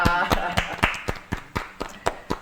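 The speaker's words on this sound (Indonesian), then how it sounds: "tepuk tangan untuk Teh Ulfa" About ten sharp, evenly spaced claps ring out for Teh Ulfa at a youth literacy event, close and distinct, with voices talking faintly underneath.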